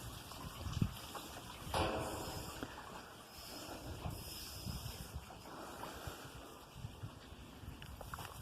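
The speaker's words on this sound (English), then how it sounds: "let's have a look at this waterfall." A waterfall near Langsett in the Peak District pours in a steady, broadband rush that holds an even level throughout, with no voices over it.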